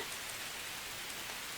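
Sheeting rain pours down steadily in a dense, even hiss, with no break and no voices.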